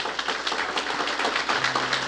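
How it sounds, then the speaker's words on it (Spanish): A church congregation claps steadily and densely through a Sunday-morning service, a continuous close patter of many hands with no voices over it. "Dele ese aplauso al Señor en esta mañana."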